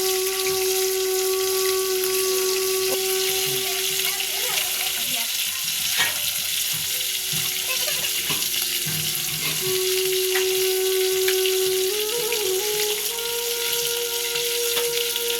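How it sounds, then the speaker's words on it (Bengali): Panch phoron spices crackle and fry in hot oil while a spatula stirs and scrapes the pan, giving a loud, continuous hiss with scattered knocks close by. "পাঁচফোড়নটা একটু নাড়াচাড়া করে নিয়ে"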